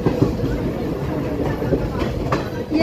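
A locomotive engine coupled at Bhilwara railway station in Rajasthan, with steady rumbling rail noise and a few clanks nearby, while people talk over it.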